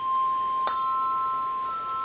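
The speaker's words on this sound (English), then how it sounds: "the middle bell," A single handbell rung in four-in-hand ringing: one clear strike that rings on as a steady, sustained tone, close and alone with no talk.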